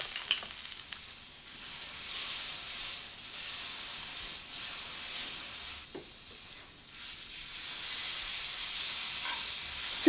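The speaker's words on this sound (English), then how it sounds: "now that the oil's in the pan and the steak has started to sear" Steak searing in a hot pan of oil with butter, giving a loud, continuous close-up sizzle and hiss that swells and eases, with a few faint utensil taps.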